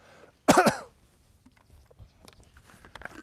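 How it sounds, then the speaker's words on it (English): A single sharp, loud cough bursts out near the start, followed by quiet background with faint rustling. "I got a cough."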